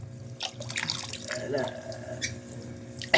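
Water runs from a tap into a basin at bath time while a baby tries to catch the stream, with a steady splash and patter under people talking nearby.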